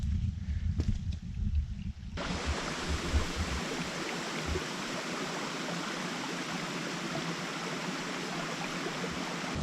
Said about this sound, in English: We've come to this brook.